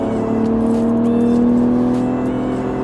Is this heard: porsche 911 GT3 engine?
yes